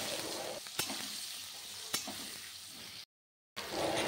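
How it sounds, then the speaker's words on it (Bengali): Sliced green banana fries with turmeric in a pan, giving a steady close sizzle with two sharp stirring clacks. It stops for a moment, then the sizzle returns just as strong. "খুব ভালো মতন করে কাঁচা কলাটা ভেজে নিব।"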